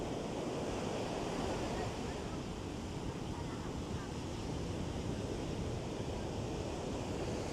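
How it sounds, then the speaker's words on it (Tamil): Sea waves crash steadily onto the shore at a village fishing beach at dawn, a continuous loud surf roar with heavy wind noise on the microphone throughout. "அப்படி அலை அடித்து மூடுதா"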